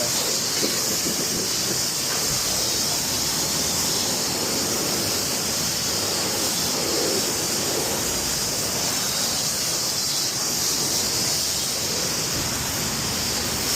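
Steady water spray hosing down mom's jeep at a carwash, a dense continuous hiss with no soap, holding even and close throughout without pause.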